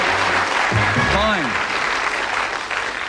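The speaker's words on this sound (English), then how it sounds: "Give them a round of applause." Loud studio audience applause on a darts game show fills the stretch, dense and steady, while a voice briefly speaks over it near the start.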